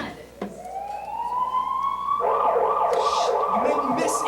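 Two ambulances sound their sirens, a rising wail sweeping upward then turning into a fast alternating yelp, heard outdoors at moderate distance with background commotion.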